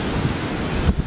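Strong wind blows by the sea in a steady, close rush of noise, with a few bumps of buffeting against the microphone over about a second.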